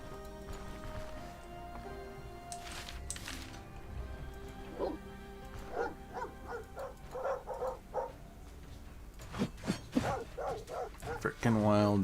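Wild dogs in the video game Stoneshard bark and yip in short bursts that grow busier toward the end, heard amid game sounds with a person talking over them.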